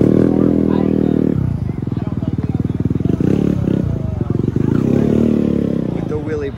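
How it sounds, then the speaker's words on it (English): Suzuki Hayabusa drag racing motorcycle at a Southeastern Drag Bike Association event, a no-bar bike running on street tires: a loud, throbbing engine idles and revs steadily at close range while an announcer talks over it. "Of course, Dustin with the Suzuki Hayabusa."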